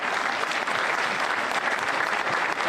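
Dense, steady applause from a crowd at a Gaelic football final, loud and continuous with no break, filling the whole moment.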